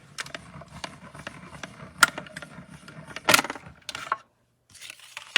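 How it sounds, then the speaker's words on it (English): A die-cutting machine presses paper shapes through a cutting die, producing close mechanical rolling, clattery knocks and a few sharp clacks. A short pause follows, then more rattling. "So I'm just going to die cut this real quick."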